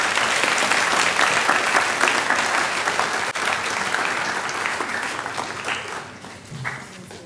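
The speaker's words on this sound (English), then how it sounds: "Let's give this group a big round of applause." A crowd at a school prize-giving ceremony applauds steadily and loudly throughout, the clapping gradually thinning and fading toward the end.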